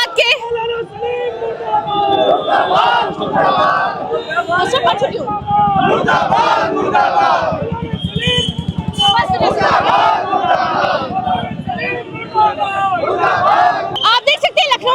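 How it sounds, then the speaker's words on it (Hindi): Dense crowd of angry protesters shouts slogans at an effigy-burning protest at Hazratganj crossing in Lucknow, loud, continuous rhythmic chanting and yelling with overlapping voices filling the whole stretch. "और लगातार नारे लग रहे हैं मुर्दाबाद के"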